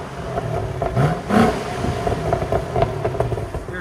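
Stock-exhaust 6.2L V8 of a 2015 Chevy SS revving inside a shop, a steady loud idle rumble broken by a few sharp throttle blips, the strongest near the middle.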